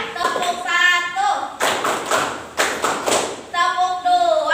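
Students in a sixth-grade Islamic religious education class clap together in a short rhythmic burst of a few sharp, loud beats, bracketed by a teacher speaking before and after.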